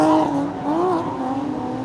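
Two small Z cars drifting in tandem at Five Flags Speedway, a loud continuous engine drone with rising and falling revs and a slight tire squeal, sustained throughout with no talk.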